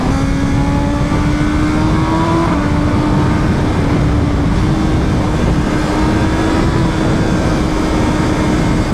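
BMW M1000RR motorcycle runs flat out at top speed, its high engine whine holding steady under heavy wind roar, with one brief pitch rise and drop partway through.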